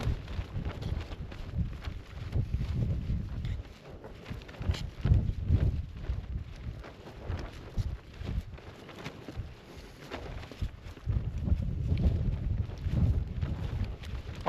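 Gusty wind buffets the microphone outdoors on a spot plagued by midges, a steady low rumble swelling and easing in long surges over roughly fifteen seconds, with no voices.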